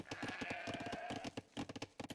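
Sheep bleating from Tatar livestock in an Age of Empires 2v2 league match: a run of wavering, nasal bleats with a rhythmic pulse, close and fairly loud, with no talk over them.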